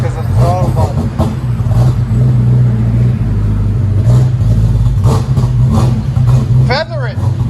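A 1993 Lexus SC 400 V8 with dual exhaust and the mufflers removed rumbles loud and close, blipping the throttle in short, rough surges over a deep burbling idle, with a throttle body fault; voices talk over it.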